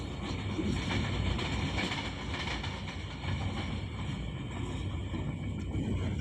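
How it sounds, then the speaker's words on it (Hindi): Sir Syed Express passenger train overtaking a container train alongside, a steady close rumble of wheels and carriages with faint clatter running throughout, no talking. "अब सर सैयद एक्सप्रेस और एक कंटेनर ट्रेन को भी ओवरटेक कर रही है साथ साथ"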